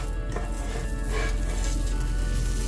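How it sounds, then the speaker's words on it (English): A grilled cheese sandwich on sourdough sizzles steadily in a hot pan, a close, continuous hiss with no talking. "I can hear the sizzle of the cheese on the pan."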